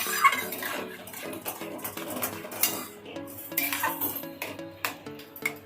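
Semolina mixture being stirred into a dough in a pan for sooji luchi, with busy metallic scraping and clinking of a spoon against the pan, close and continuous with uneven knocks.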